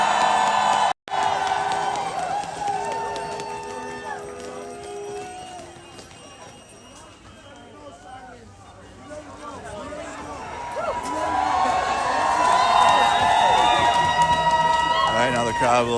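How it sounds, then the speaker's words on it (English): Thousands of protesters in a massive street crowd in Minneapolis, a broad roar of cheering and whooping voices that dips and then swells loudly, with shouted calls rising above the mass and speech mixed in. "Massive crowd. There were thousands that came out."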